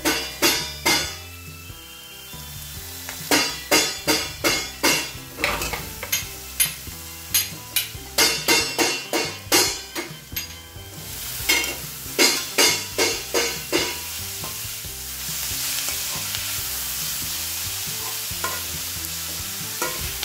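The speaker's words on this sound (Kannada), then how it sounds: "ಸ್ವಲ್ಪ ಹಸಿ ವಾಸನೆ ಹೋಗೋವರೆಗೂ ಕ್ಯಾರೆಟ್ನ ಹುರ್ಕೊಳ್ಳೋದು." Grated carrot fries in a pan for a carrot palya, with a rapid run of sharp spatula scrapes and taps over the sizzle. The strokes then give way to a steadier frying hiss with music under it.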